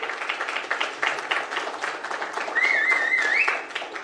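A crowd at a coding bootcamp demo day in São Paulo applauds a presenting team, dense sustained clapping with a high whistle near the end.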